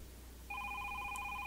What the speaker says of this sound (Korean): 그 순간 나나세군의 집에 전화가 울렸어.